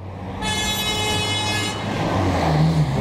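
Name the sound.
car horn honking on the street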